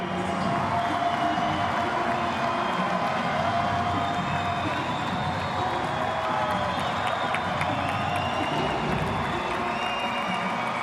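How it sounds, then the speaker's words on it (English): A road crowd at a FIBA Basketball World Cup game in Jeddah roars for Lebanon, a dense, loud, sustained wash of cheering with scattered whoops and clapping that holds steady throughout. "listen to the roar of this road crowd for Lebanon"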